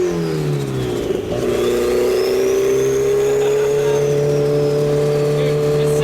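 A turbocharged Honda S2000 four-cylinder swapped into a Ford Model A rat rod, heard from inside on the road: a loud, steady engine drone with turbo whine, a brief dip before the revs rise and hold, and a voice speaking in the clip.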